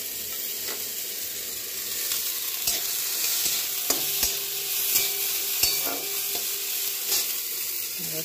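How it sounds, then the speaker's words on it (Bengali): Potatoes fry in hot oil tempered with black cumin, a steady close sizzle throughout with occasional spatula taps and scrapes against the pan. "আর এখানে করছি আলু ভাজা।"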